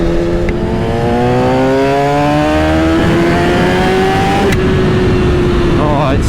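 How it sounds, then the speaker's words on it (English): A 2003 Kawasaki ZX6R 636 sport motorcycle engine revs close by, its loud exhaust note climbing steadily in pitch through the rev range with a shifting two-tone character, then dropping off near the end. "It's almost like it has two different tones of the exhaust when you're going around the rev range."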